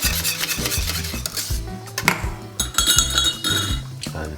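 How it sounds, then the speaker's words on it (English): Oats porridge being whisked in a pot, with bright repeated clinks of metal against the pot over a steady background, the scraping strokes fast and close, briefly interrupted midway. "Give it a whisk."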